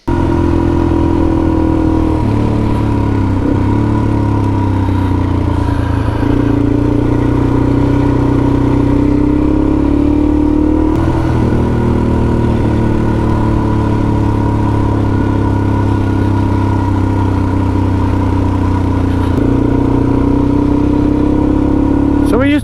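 Suzuki DRZ400 motorcycle with new Eibach fork springs riding along, a loud close single-cylinder drone that rises and falls through gear changes and throttle shifts, with wind noise throughout.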